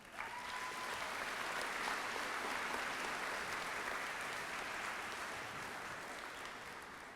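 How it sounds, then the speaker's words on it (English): An audience at the 2015 East Liverpool High School graduation ceremony claps steadily for the whole stretch, a dense, even wash of applause that is fairly soft and slightly distant and fades a little at the end. "everybody here, they deserve a round of applause one more time"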